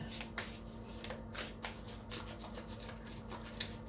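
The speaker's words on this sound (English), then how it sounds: "the last card that I'm looking for as I'm shuffling" Tarot cards shuffled by hand up close, a continuous soft riffling and rubbing with small snapping clicks, with a faint steady hum underneath.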